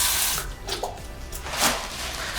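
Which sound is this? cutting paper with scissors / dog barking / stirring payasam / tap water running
tap water running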